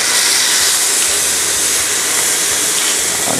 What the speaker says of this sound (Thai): ผมจะลงแซลมอนลงด้านหนังก่อนนะคุณผู้ชมผมลงเลย